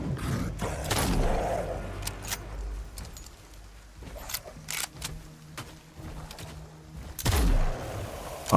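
Gunfire in the survival game Nightingale, a handful of sharp, separate shots scattered among clanks and mechanical rattles, moderately loud with quieter gaps between them and no speech.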